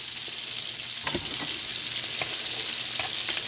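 Cod or similar white fish fillet pan-searing in butter over adjusted heat, giving a steady close sizzle and crackle for a few seconds, with occasional small pops and light utensil touches.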